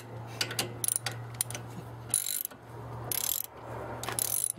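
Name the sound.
8mm hex drive turning motorcycle footpeg bolt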